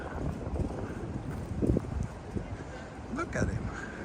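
Gusty wind buffets a microphone on a Tokyo street, a steady low rumble swelling in bursts, with brief voices passing underneath.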